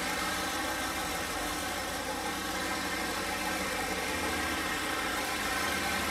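Turbocharged 408 LS V8 with 100 lb/hr fuel injectors running steadily at idle, a continuous, fairly loud engine drone with even vibration throughout and no talk over it.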